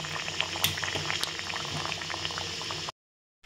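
Nimki frying in ghee in a hot iron frying pan over a low flame, giving a steady, dense bubbling crackle that runs for nearly three seconds and then cuts off abruptly.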